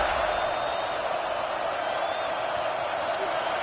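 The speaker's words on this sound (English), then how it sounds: "this crowd is buzzing after that last score" Football stadium crowd at a college game buzzing after a score, a steady dense roar of many voices filling the whole stretch with no breaks or distinct cheers.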